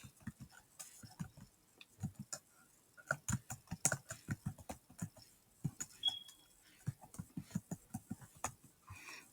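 Rapid typing on a computer keyboard, with uneven bursts of crisp key clicks and a few short pauses between them, close and fairly quiet, no talking.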